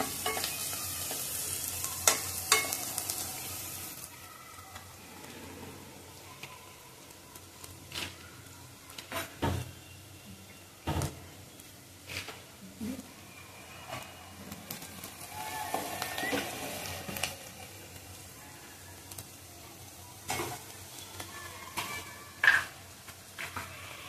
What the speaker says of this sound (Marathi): मिक्स करूया व्यवस्थित.